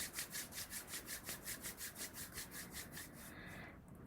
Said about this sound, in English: I want you to bring your hands out in front of you and rub them together